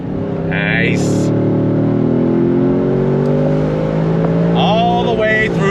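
A 2025 Mustang GT 60th Anniversary Edition V8 pulling up through the rev range, a loud steady engine drone climbing in pitch from inside the car, with short higher tones near the start and end.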